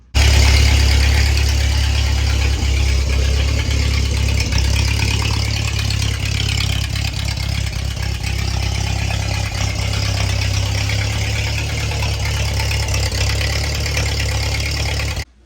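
A 1949 Ford 8N tractor engine running at a steady, loud idle with a deep low rumble and some light irregular popping throughout, heard close up without talk.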